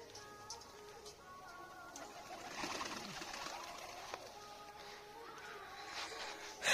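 Pigeons coo softly in a loft, faint and intermittent under steady background noise and occasional small ticks.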